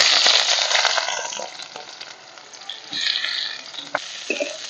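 Chopped onions frying in mustard oil in a wok, a close, bright sizzle that fades then swells again as the pieces are stirred, with a few soft clicks and no voices.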